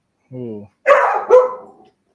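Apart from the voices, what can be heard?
dog barking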